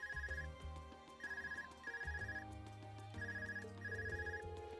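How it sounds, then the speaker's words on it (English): An Arcus communicator ringing in The Legend of Heroes: Trails of Cold Steel, with bright repeated ringtone bursts in a steady pattern. The ringing sits over continuous background game music, and no one speaks. "Is that your Arcus ringing?"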